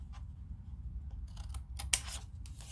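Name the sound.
scissors cutting paper for a gift box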